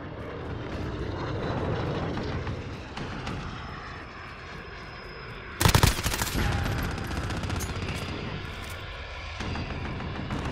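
Allied VTOL aircraft on station in a Call of Duty: Modern Warfare multiplayer match, a steady roaring engine drone running throughout with a sudden loud burst of gunfire or explosion near the middle.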